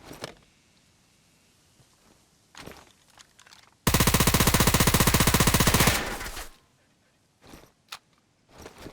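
Sustained automatic gunfire in a video game as an island is shot apart: a dense, loud two-second burst of rapid rounds, framed by quieter thuds and scattered game sounds before and after.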